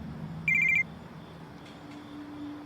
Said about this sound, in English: The security alarm just went off inside the shop.